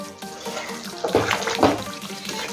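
Hot water poured into a pan of chicken curry: a brief splashing, bubbling pour rising over about a second, heard close and fairly loud against a quiet kitchen background.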